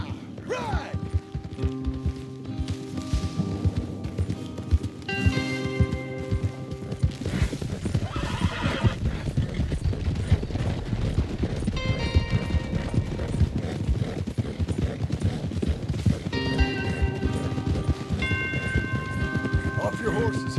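Horses galloping in Red Dead Redemption 2, steady rapid hoofbeats throughout with occasional whinnies, mixed with background game music and characters talking over the ride.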